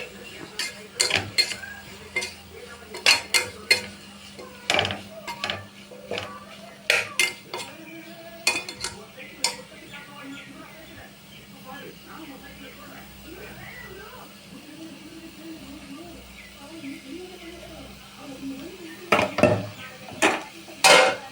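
Vegetables and spices, including coriander powder, are sautéed in a pan with repeated close metallic clanks and scrapes of a spatula, a faint sizzle underneath, and a voice speaking between strokes.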